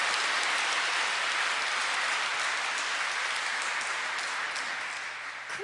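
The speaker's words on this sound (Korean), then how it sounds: "여러분 자신을 위해서 박수 한번 쳐봐요." Audience applause at a Buddhist monk's Advent lecture, a dense, steady crowd of clapping that fills the whole stretch at close range and eases slightly toward the end.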